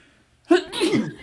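A single sharp sneeze bursts out close to the mic after a brief quiet, followed by a short trailing voiced sound, in an indoor setting during a casual sports talk recording.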